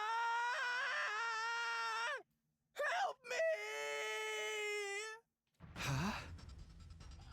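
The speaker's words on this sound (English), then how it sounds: "That was someone screaming, wasn't it?" A person screams in The Hundred Line Last Defense Academy, drawn-out anguished wailing cries broken by short gasps, then a harsh breathy burst at the end, fairly faint and with no talk over it.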